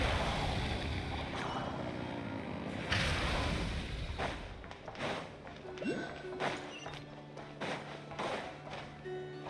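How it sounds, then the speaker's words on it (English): A boat engine revving at full throttle in the Genshin Impact video game, a broad roaring rush with wind-like noise, thuds and rising tonal whines, loud and steady throughout. "Rev the engines!"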